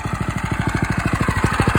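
A Coleman CT200U-EX Wildcat 223cc mini bike engine runs close and loud, a fast, even chugging pulse of low thumps from a small single-cylinder motor at steady speed.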